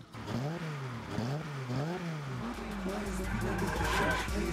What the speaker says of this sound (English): James will be teaching people how to spin a gujeshe, or any car of their choice, really.